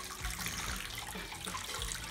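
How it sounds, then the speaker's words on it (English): Cold water runs from a tap over cooked Hakka schezwan noodles in a home kitchen, a soft, steady splashing stream that stays quiet and even for the whole moment, with no talking. "I need to rinse it with cold water."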